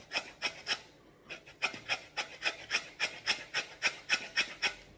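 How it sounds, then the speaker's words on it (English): A lemon is grated for its zest, giving a close, rhythmic series of short scraping strokes, about a dozen and a half rasping passes in steady succession with a brief pause near the start, and no talking. "I'm going to grab a grater and I'm going to grab a nice lemon and I'm going to grate the crust."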